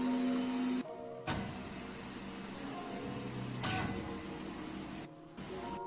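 A multicolour 3D printer, a four-colour toolchanger, runs steadily with a whirring motor hum and mechanical movement, broken by brief gaps and shifts in its motion. No one speaks.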